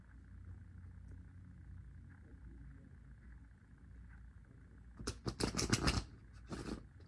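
After several seconds of low background rumble, a tarot deck is shuffled in a quick burst of crisp, rapid card clicks, with a brief final rustle near the end.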